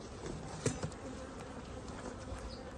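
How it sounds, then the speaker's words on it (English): Honey bees droning steadily inside an open hive beneath the lid, a continuous low buzz at moderate distance with a couple of brief louder knocks partway through. "The bees underneath the lid."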